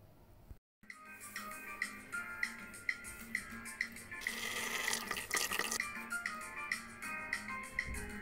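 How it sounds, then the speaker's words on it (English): Rice being washed by hand in water in a pot, soft wet swishing and rubbing with small dripping splashes, faint and close, no voices. "I'm going to wash it, make sure it's clean before adding it to the sauce that I'm cooking."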